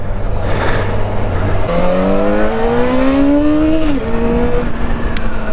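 A Yamaha XJ6 motorcycle on its original exhaust revs up close and loud, its pitch climbing steadily for a couple of seconds, then dropping back to a steady idle.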